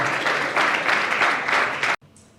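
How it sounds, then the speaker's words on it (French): A crowd applauds loudly for a woman named Linda, dense sustained clapping that stops abruptly, leaving near silence. "Est-ce qu'on peut applaudir bien fort pour Linda?"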